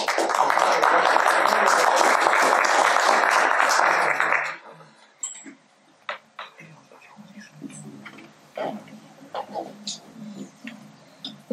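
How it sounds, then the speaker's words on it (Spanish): A roomful of people applauds at a museum day talk, a loud, even burst of clapping for about four seconds that stops abruptly, followed by a lone speaker beginning to talk quietly. "La recibimos con un aplauso."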